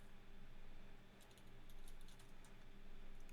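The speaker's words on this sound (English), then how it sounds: "Typing mine in." Keys clatter in scattered quick bursts on a computer keyboard while someone types in character creation details for a tabletop roleplaying game, faint and close over a steady low hum with no talking.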